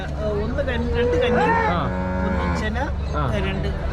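HF dairy heifers moo close by, long wavering bellowing calls that overlap and follow one another throughout, with faint human voices in the background.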